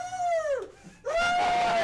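A voice imitating a screaming child with two high wailing screams broken by a short gasp, loud and close, during a tabletop role-playing game.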